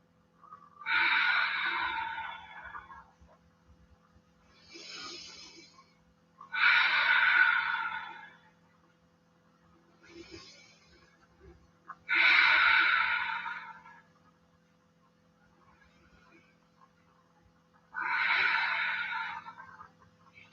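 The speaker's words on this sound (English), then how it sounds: "Breathing deeply here for a few deep breaths." Slow, deep breaths during a guided yoga flow, each long airy inhale or exhale lasting about two seconds and separated by quiet pauses, close and clear with no talking.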